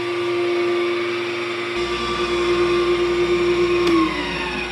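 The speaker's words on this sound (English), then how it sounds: "I'll put on the dust collection too." In a woodshop, a dust collector switches on beneath the steady whine of an Oliver 10055 15-inch benchtop planer already running, adding a deeper, constant roar that continues to the end.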